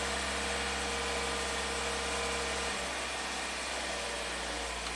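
Ford EcoBoost car engine with a manifold-pressure fault holds a steady raised idle, a constant broadband hum and low drone that dips briefly midway, close and continuous with no talking.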